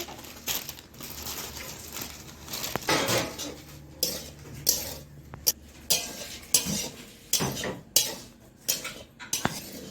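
Semolina being lightly roasted in a pan while making sweet potato and pointed gourd pitha: repeated clinks and scrapes of a spoon against the pan, close and fairly steady, with soft rustling between the strikes and no talking.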